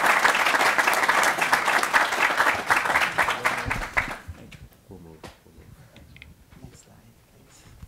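An audience applauds student volunteers at an industry event, a loud, full burst of clapping lasting about four seconds, then quickly dying out to scattered claps and quiet murmuring.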